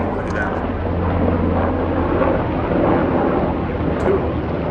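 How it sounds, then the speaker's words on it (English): A big military plane passing overhead: a continuous, loud, broad roar that holds steady throughout, with people talking under it, outdoors. "We've got a big military plane coming by right now."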